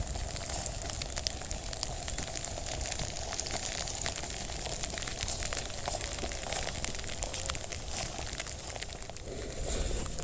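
Steady rain hisses down on a mountain hiking trail during a climb of Mount Sumbing, a constant soft pattering wash with no pauses, fairly quiet and heard alone.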